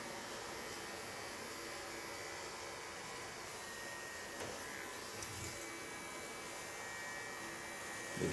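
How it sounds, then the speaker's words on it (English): Small electric hair clipper held upside down, trimming a clean line at the hairline beside an undershaved bob; a steady, fairly quiet buzzing hum runs continuously without any talking. "I'm first going to clean up this line with the small clipper"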